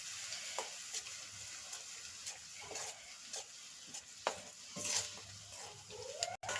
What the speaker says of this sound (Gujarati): તો આપણું લસણ છે ને તેલમાં હળવા મળ્યું છે એટલે આપણે એને ધીમે ધીમે આમ મિક્સ કરતું રહેવાનું છે